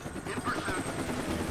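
Helicopter in the video game Deadlight, a loud steady rotor thrum and engine roar hovering close overhead, with a voice talking over it.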